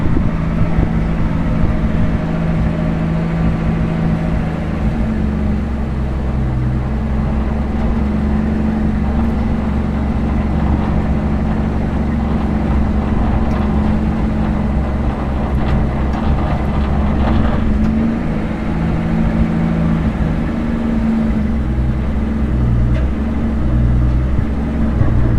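An old junkyard vehicle with a faulty throttle return spring runs steadily as the clutch is let out slowly. Its low, constant engine rumble drones on without a break for the whole stretch, with no talk.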